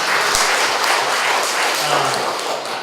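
Audience applause at a public lecture in Indonesia, a dense, steady burst of clapping from many hands filling the room, close and loud, with a faint voice underneath.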